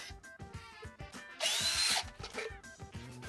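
A 14.5-volt battery-powered cordless drill whirs in one loud burst of about half a second while fastening roofing screws, surrounded by scattered tapping and handling knocks outdoors.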